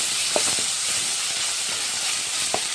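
Ginger garlic paste sizzling in a pan while a prawn mango gravy is cooked, a steady broad hiss of frying with a few soft stirring knocks, fairly close and alone.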